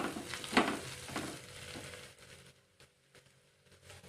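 Dal tadka frying in a pan as turmeric is added: soft sizzling and stirring scrapes, louder at first with a sharp stir, then fading to quieter sputters.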